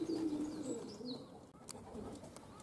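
Racing pigeons coo softly and steadily at a loft before taking flight, a low, rolling call close by and moderately loud, with faint background noise.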